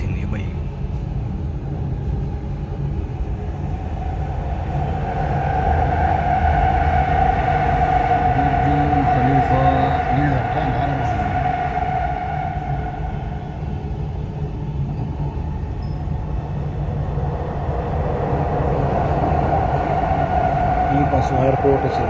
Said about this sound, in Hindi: ये ट्रेन है दुबई की, बहुत खूबसूरत प्यारी ट्रेन है